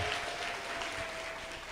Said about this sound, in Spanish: Recibimos con un fuerte aplauso a Sofía Santos